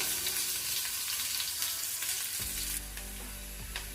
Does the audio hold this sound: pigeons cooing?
no